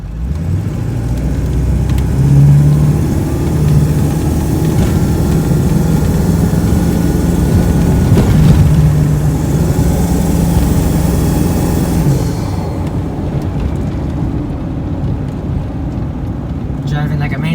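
A 7.3 Powerstroke diesel truck with a turbo drives hard and accelerates, its loud, steady engine drone rising and holding before easing off, heard from inside the cab.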